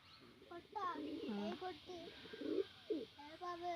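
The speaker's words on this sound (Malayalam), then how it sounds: "പ്രാവ് കൊത്തുകൂടുന്നുണ്ടോ?" Pigeons coo close by in a short burst of soft, throaty, warbling calls, with a faint voice murmuring nearby.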